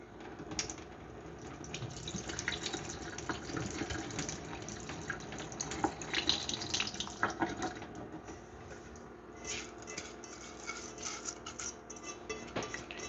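Rice is stirred and rinsed in a bowl of water, giving soft, continuous sloshing and swishing at low volume, with faint bird chirps in the background.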